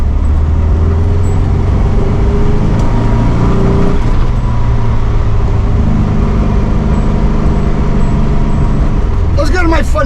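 A 1964 VW Beetle with a 1600cc dual-port engine and a drivability concern drones loudly from inside the car, its humming engine note shifting as it pulls, with road rumble throughout.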